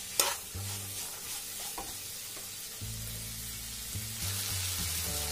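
Black chickpeas fry in a pan with a steady close sizzle, while a spoon stirs and scrapes in repeated short strokes over the hiss, with no voices.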